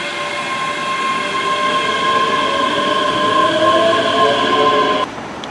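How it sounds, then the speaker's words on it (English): A train arriving at a station in Scotland rumbles along with steady mechanical hum and faint squealing wheels, close and continuous, then the noise drops suddenly near the end. "Waiting for stand clear announcements and the next train to arrive"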